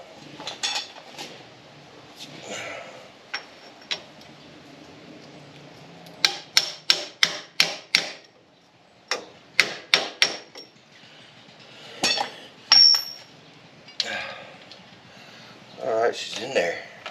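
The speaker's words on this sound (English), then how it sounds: "What we do with the hammer?" A hammer strikes the rear axle of a Chevy Suburban in several bursts of sharp metallic blows, some in quick runs and others single, with people talking between the strikes.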